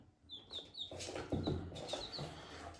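Young chicks in a small flock of about twenty-two cheep in quick high peeps, several overlapping calls close by with soft shuffling underneath.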